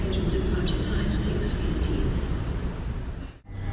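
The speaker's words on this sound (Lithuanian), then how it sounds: "Ir štai Lenkijos greitasis traukinys Pendolino" Polish Pendolino express train pulling into a station platform on the route from Kraków, a loud broad rushing rumble that fades abruptly near the end, with a voice speaking over it.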